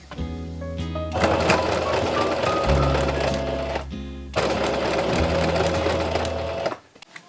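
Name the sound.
sewing machine stitching bias tape onto a fabric edge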